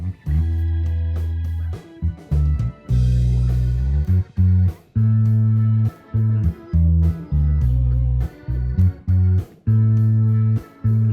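A close, heavy bass guitar through a bass amplifier, close-miked with a condenser microphone, plays a repeating riff of punchy low notes with short gaps, full and boomy with a clear attack.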